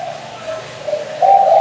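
A tame decoy spotted dove, a bird trained for bird-trapping outings in Phu Yen, coos in steady low tones close by, growing louder toward the end with no talk over it.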